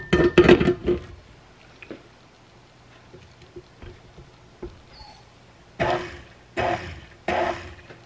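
Batter for homemade apple bars being mixed in a bowl, with a few loud bursts of scraping and clatter at the start and again toward the end, separated by quieter stretches of faint tapping.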